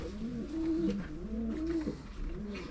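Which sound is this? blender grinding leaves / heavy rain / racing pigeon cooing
racing pigeon cooing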